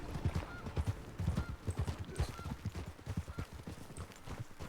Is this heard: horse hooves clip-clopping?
yes